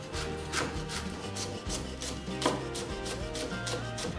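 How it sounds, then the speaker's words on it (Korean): A green onion is finely sliced on a cutting board with a knife, giving a close, steady run of quick rhythmic taps over a continuous background hum, with no talking. "대파 하나는 송송 썰어주세요."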